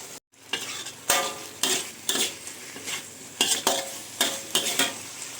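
Pieces of chicken for Filipino adobo fry in cooking oil, with a steady sizzle broken by repeated clattering stirs and utensil scrapes at a fairly regular rhythm, close and moderately loud, with no talking.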